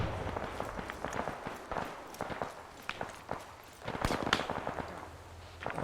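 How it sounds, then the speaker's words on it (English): Distant grenades from a video game burst in scattered, muffled thumps toward the southeast, irregular and fairly loud against a busy background of crackling impacts. "Grenades going off to our southeast."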